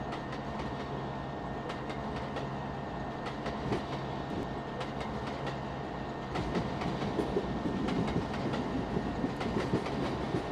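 Kakatiya Express running in the Trainz game: a steady rumble of rolling train cars with rhythmic clickety-clack from the wheels, continuous and close, growing slightly louder toward the end, with no voices.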